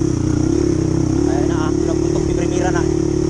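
A motorcycle engine labours steadily up a rocky, uphill trail with a passenger riding along, its constant drone and rattle running throughout while someone talks over it.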